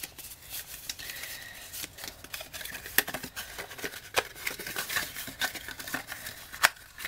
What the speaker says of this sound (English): all you've got to do is fold on all of the score lines